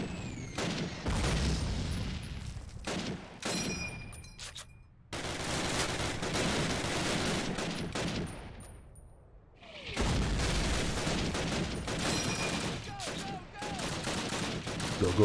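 Mortar and gunfire hitting positions in a modern warfare shooter campaign on veteran difficulty, repeated heavy booms and sharp bursts of shots, some close and loud, others fading, with brief lulls between volleys.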